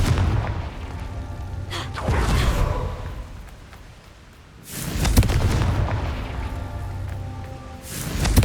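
Confringo blasting spell in Hogwarts Legacy, two heavy booming explosions with whooshing rumble, each loud burst followed by a decaying roar, close and alone without talk.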